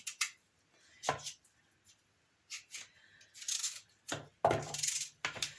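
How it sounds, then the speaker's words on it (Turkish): A knife chops against a board in short, irregular bursts of sharp taps with quiet pauses between them, close by. "Şöyle küp küp doğruyorum."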